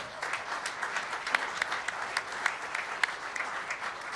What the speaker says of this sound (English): Let's give a big round of applause for the Kearney family.